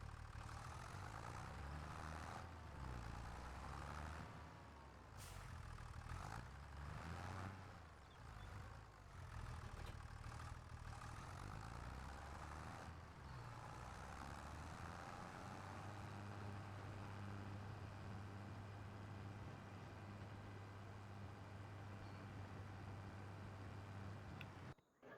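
A tractor in Farming Simulator 25 drives along with a steady low engine drone, close and constant, with a few brief clunks early on.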